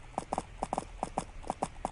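Horse hooves in a riding video game, a quick steady clip-clop of paired hoofbeats at a trot, close and crisp, with no talk over them.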